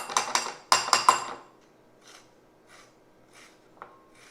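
A lemon rind being zested, with a few loud, close rasping strokes at the start followed by fainter, spaced-out scrapes.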